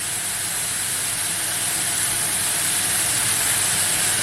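Food browning in a frying pan, part of a stuffed cabbage Parmentier gratin, gives a steady, loud, unbroken sizzle that holds evenly throughout with no talking.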